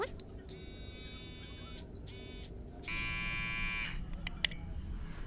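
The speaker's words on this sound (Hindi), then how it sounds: "तो दूसरे ट्रिमर तो वर्क कर रहा है" HTC electric trimmer buzzing in short runs, switched on and off several times with a thin whine, near and moderately loud against background noise.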